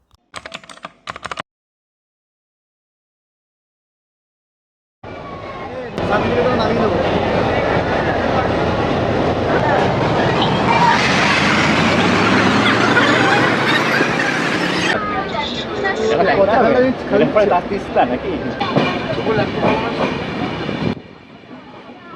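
A passenger train running out of Sealdah toward NJP rumbles with loud, continuous rolling and wheel clatter inside the carriage, swelling and fading as it moves, with a little talk and a brief quiet gap before it.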